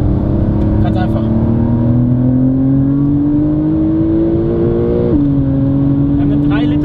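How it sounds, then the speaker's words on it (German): A Porsche 911 (992) Carrera S with a 3-litre six-cylinder boxer engine and 8-speed PDK gearbox accelerates, its engine note climbing steadily before a gear change drops the pitch, heard loud and close under someone speaking. "Wir haben einen 3 Liter 6 Zylinder Boxer, koppelt an einen 8 Gang PDK und der Motor ist auch hier enorm elastisch."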